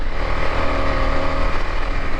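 A motorcycle on a Saturday ride through Dhading, Nepal, gives a steady, loud engine drone mixed with rumbling wind noise that holds evenly from start to end, with no talking.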